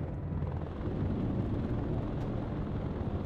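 A helicopter in the real-time strategy video game Warno, heard as a steady, unbroken rotor and engine drone that holds a constant level throughout, with no voices over it.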